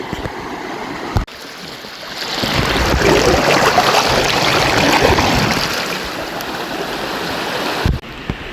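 Hill stream water rushes over large rocks on the trail to Sitakunda waterfall, a loud broadband roar that swells in the middle and eases, with brief handling thumps near the start and end.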